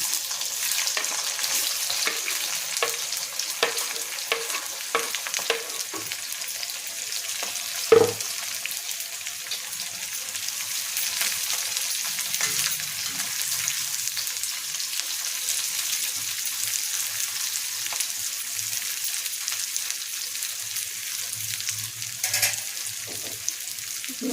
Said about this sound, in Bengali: এরপর এতে আমি পেঁয়াজগুলো, দুটো বড় বড় পেঁয়াজ কেটে রেখেছি, পেঁয়াজগুলোকে দিয়ে ভাজবো।